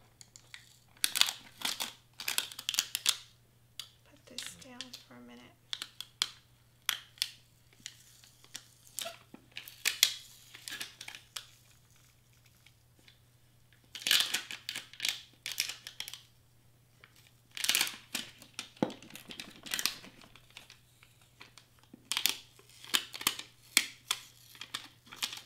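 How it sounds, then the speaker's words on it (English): Transfer tape slowly lifted off glitter vinyl on a personalized s'mores kit gift, giving scattered soft crinkles and small sticky peeling crackles in short clusters, close and quiet over a faint steady hum. "gently remove this because the transfer tape wants to pull off the glitter vinyl still"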